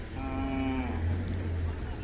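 A single cow moos once, low and drawn out, a little over a second long, over the steady murmur of a busy open-air livestock market in Sangola, Solapur district, where Khillar cattle are traded.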